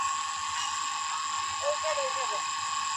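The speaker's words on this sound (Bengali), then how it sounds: "অলরেডি টুলু চলছে আওয়াজ পাচ্ছ কিন্তু জল উঠেনি এখন" A Tullu electric water pump runs steadily, a continuous mechanical hum and whine with bright high-pitched tonal bands holding throughout, a brief wavering tone rising near the middle, all fairly loud and close.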